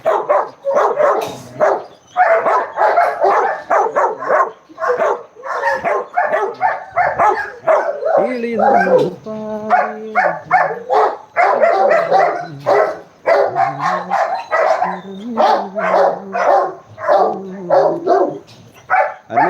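Puppies bark and yip in quick, high bursts, close and loud, with a near-continuous run of short yelps and only brief pauses across the stretch.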